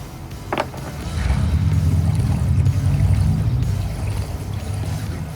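Water gushes from a hose into a boat's water tank, filled from the deck: a steady, fairly loud rushing flow that starts after a second and runs on without talk.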